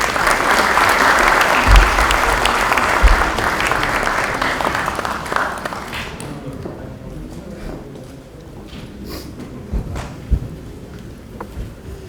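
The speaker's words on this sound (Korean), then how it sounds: "큰 박수로 모시겠습니다." A large audience at a Korean National Assembly party meeting of newly elected members applauds loudly, a dense, roaring burst of clapping for about six seconds that then fades into quieter room noise with scattered thumps.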